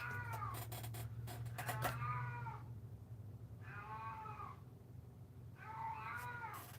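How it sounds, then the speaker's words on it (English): A cat indoors meows faintly in a quiet room, three drawn-out, rising-and-falling cries spaced a couple of seconds apart, with a low background hum and a few brief knocks at the start. "can you hear her meowing?"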